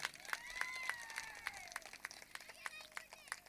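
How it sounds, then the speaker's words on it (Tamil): An audience at a Tamil comedy speech claps in a patter of distinct, fairly faint claps, while a voice talks over it throughout. "கைத்தட்டுங்க பார்ப்போம்"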